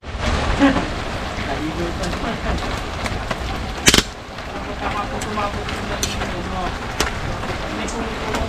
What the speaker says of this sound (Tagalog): Umuulan. Malamig ang panahon.